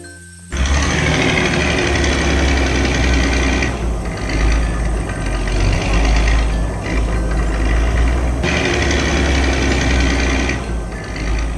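A heavy yellow construction machine engine roars continuously up close while repairing a damaged road, a loud low rumble with a rattling, grinding texture that briefly dips and surges in intensity.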